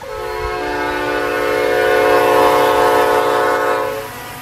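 A train in the RO-Scale Sandbox video game rolls through a railroad crossing, its sustained horn chord sounding close and loud, swelling in the middle and cutting off toward the end.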